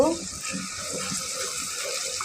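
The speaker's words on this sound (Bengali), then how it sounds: "এখন এর মধ্যে আমি পরিমাণ মতো জল দিয়ে দিব।" Water pours into a cooking pot of morog polao, a steady close splashing rush that fades slightly after an initial burst.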